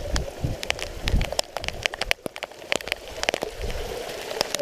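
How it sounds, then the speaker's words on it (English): Rain patters and crackles in irregular drops against surfaces in South Mountain Park, Phoenix, with a soft steady hiss underneath and no voices. "during the rain shower like this"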